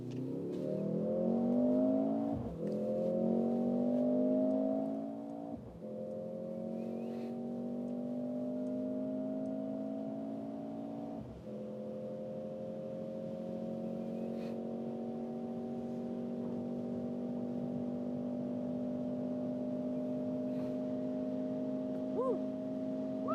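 A Mercedes GLC 43 AMG accelerating hard to high speed, its engine note climbing steadily and loud from inside the cabin, broken by brief dips at gear shifts before settling into a sustained high drone.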